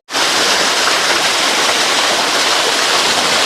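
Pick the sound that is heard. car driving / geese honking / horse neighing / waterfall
waterfall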